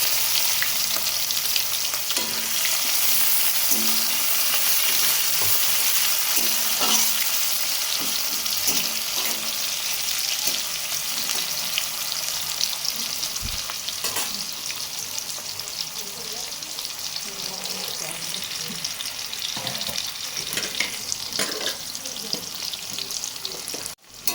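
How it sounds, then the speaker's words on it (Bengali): Onions fry in a pan for Bengali posto aloo, a steady loud sizzle running throughout with scattered scrapes and clinks of stirring close by. "এবার পেঁয়াজটা আমি দিয়ে দেবো।"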